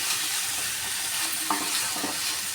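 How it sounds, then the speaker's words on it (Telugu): Pumpkin pieces frying in a pan while being stirred: a steady broadband sizzle throughout, with a few soft scraping strokes of the utensil standing out near the end, no talking. "గుమ్మడికాయ ముక్కలు వేసుకుందాం ఇవి బాగా కలుపుకోవాలి"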